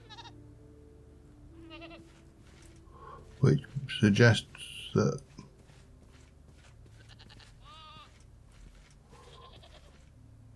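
Goats bleat in the video game TerraFirmaCraft in a short cluster of loud, overlapping cries in the middle of the stretch, while someone talks over quiet background tones before and after.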